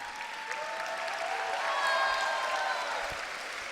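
An audience at a primary school production claps in sustained applause, steady and fairly close, swelling slightly in the middle before easing off, with faint crowd murmur underneath.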